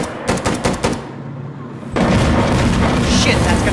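Rocket explosion and gunfire in the video game Insurgency Sandstorm: a burst of sharp shots up front, then a loud sustained blast rumble that fills the rest, with voices over it.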